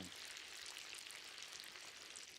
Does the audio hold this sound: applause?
no